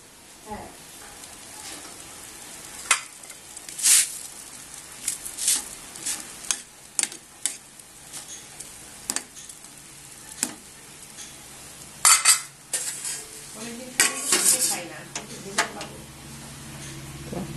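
Soya chunks frying in a pan at home, with a spatula scraping and clinking in irregular strokes over a soft sizzle, close by, while people talk intermittently and a lid or drawer knocks now and then.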